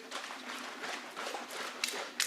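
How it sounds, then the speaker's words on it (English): A black bottle being shaken, with water gushing out in a steady, rushing spray that swells and fades in bursts over a couple of seconds, ending in a sharper splashy burst. "As you can see, water gushes out."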